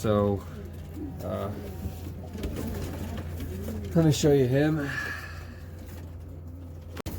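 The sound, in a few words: racing pigeons cooing in the loft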